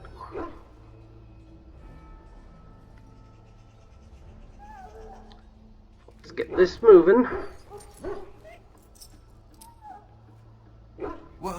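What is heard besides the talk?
dog barking in Dragon Age video game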